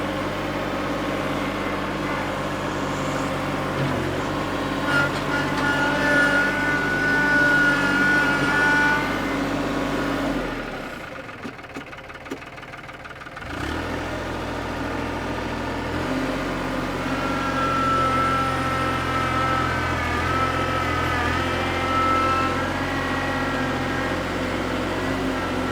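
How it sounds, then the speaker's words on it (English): A tractor engine runs steadily at a mid-pitched idle with a droning harmonic hum, briefly dropping out for a couple of seconds before resuming at the same even level, with no voices. "Let's get the tractor."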